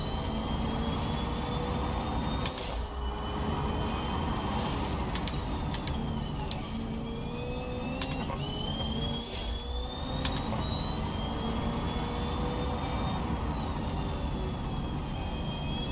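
A Peugeot racing up the Goodwood hillclimb in the BeamNG driving game, its engine droning loud and steady as it accelerates, with the pitch rising and shifting through gear changes and no voices over it.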